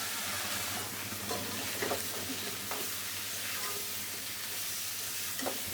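Teasel gourd frying in oil tempered with cumin, nigella, dried chillies and bay leaf, a steady close hissing sizzle with a few faint utensil taps, no talk.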